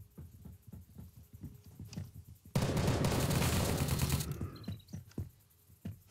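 Gunfire in the survival shooter Apocalypse Rising 2: scattered sharp shots, then a loud, dense burst of rapid fire lasting about two seconds before trailing off into quieter clatter.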